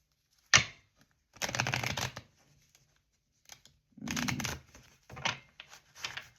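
Tarot cards being shuffled by hand in a quiet room: several separate riffling bursts of papery flutter and snapping, one sharp tap at the start, then pauses between shuffles.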